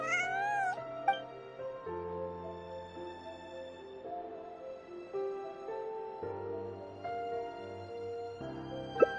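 A cat in Genshin Impact gives a rising meow at the start, followed by softer mewing over gentle game background music.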